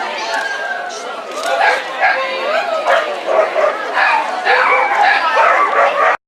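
Two Border Collies in Halloween costumes bark and yip excitedly in quick, close bursts, mixed with whimpers and people chattering in the background.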